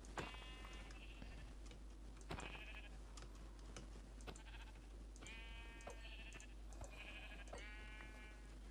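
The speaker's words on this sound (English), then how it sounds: "Ah, some more sheep here." Repeated sheep bleats from Minecraft, several wavering calls spaced across the clip over a steady low hum and occasional clicks, with no talking.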